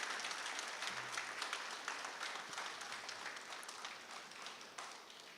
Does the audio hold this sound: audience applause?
yes